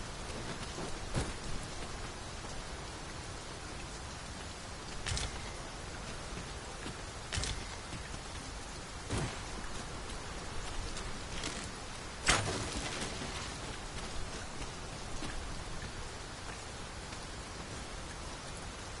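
Steady cold rain falls in a hiss that fills the whole stretch outdoors, with occasional sharper cracks and rumbles of thunder breaking through, and no voices.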